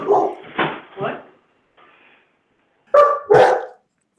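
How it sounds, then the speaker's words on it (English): Several dogs bark indoors in short loud bursts, three quick barks, a faint whimper, then two more sharp barks close by. "Dogs are losing their mind."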